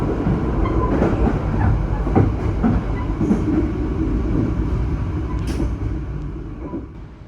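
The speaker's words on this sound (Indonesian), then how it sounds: "Kayaknya bakalan ada kereta datang dari arah barat ya" A passenger train on Indonesia's southern line rumbles past close by, with a steady loud roar and rail clatter that stays constant, then eases slightly toward the end.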